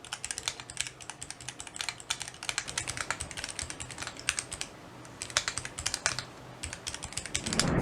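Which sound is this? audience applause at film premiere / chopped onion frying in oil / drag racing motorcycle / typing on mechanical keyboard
typing on mechanical keyboard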